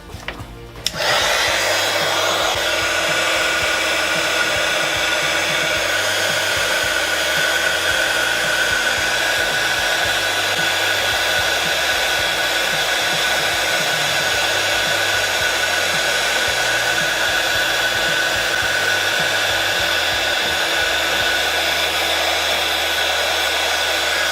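A hair dryer blows steadily on a Halloween-themed ATC craft piece, starting after a brief click and then running loud, close and unbroken throughout, with no talk.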